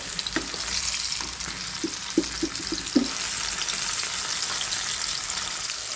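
Thin ash gourd slices fry in a pan with a steady, close hiss of hot oil, broken by a few soft taps and clicks from turning the pieces, with no voices.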